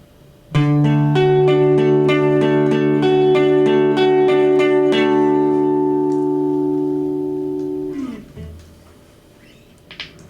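A guitar plays a riff at a quicker tempo, with a steady run of clear, ringing strummed chords building to sustained tones that fade out, then a brief muted scrape at the end.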